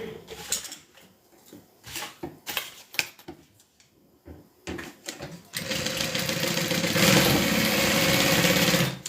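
A sewing machine stitches the bottom onto a bag gusset, starting in short bursts amid handling noise and then running steadily and loudly for the last few seconds.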